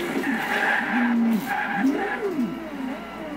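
A Pagani supercar racing in Forza Horizon 2, its engine note rising and falling in quick sweeping pitches with tire noise, loud and close for a few seconds.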